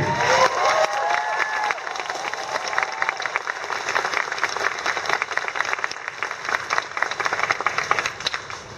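An audience salutes an Air Force Honor Guard drill team with loud, sustained applause and cheering, dense clapping from a large crowd with a few shouts near the start.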